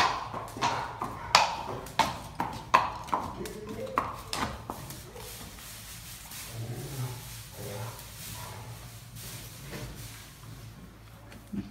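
A horse walking past a terrace toward the stables, its hooves giving a series of sharp, irregular clops in the first half, then fading while a low rumble and quiet talk continue.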